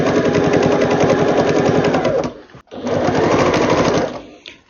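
A sewing machine stitches binding onto a quilt, running loud and steady for about two seconds, pausing briefly, then racing again in a fast even whir before slowing to a stop.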